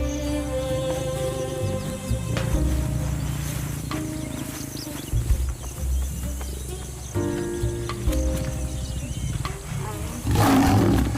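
African lions roaring in the wild, a series of deep, drawn-out roars and grunts that build in repeated bouts, loud and close, with birds and insects faintly behind and no talk.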